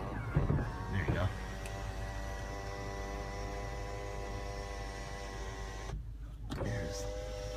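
A 2007 Toyota Sequoia power window motor runs in a steady droning whine for several seconds, briefly cutting out before starting again, close and moderately loud with a little handling noise.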